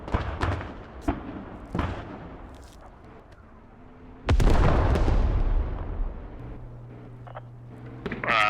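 Artillery fire and explosions in the Squad video game: heavy booming impacts land at intervals, one loud close blast followed by a long rumbling roar, with sharper distant cracks scattered around.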